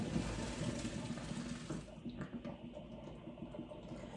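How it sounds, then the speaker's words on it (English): Cooked macaroni noodles poured into a strainer in the kitchen sink give a steady rush of splashing water close by that gradually thins to lighter trickling and dripping. "We're just gonna drain our noodles out"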